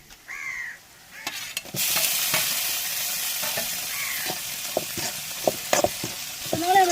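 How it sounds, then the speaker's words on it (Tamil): Garlic, onion and tomato fry in hot oil with a loud, dense sizzle that swells after a brief lull, while spatula scrapes tick through it and a crow caws faintly in the background. "வெங்காயம் வெள்ளப்புள்ள எண்ணெயில் வதங்கிட்டு நம்ம இடிச்சு தக்காளி சேர்த்துக்கிறோம்"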